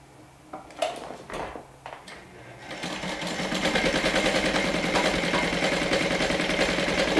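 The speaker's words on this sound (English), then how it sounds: "With the right sides together, we're going to stitch along the long side, the longer of the two" A sewing machine stitching a fabric gusset seam starts after a few handling rustles and then runs steadily at a fast, even whir, close and continuous.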